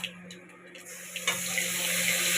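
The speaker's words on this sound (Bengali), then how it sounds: "দিয়ে এবার জল দিয়ে দিচ্ছি।" Water runs and splashes into a cumin and mustard paste for a hilsa fish curry, soft trickling at first, then a steadier, louder pour toward the end.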